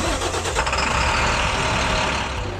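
A fleet truck's diesel engine cranking and catching on traditional diesel fuel, a loud, close rough rumble that settles into a steady idle.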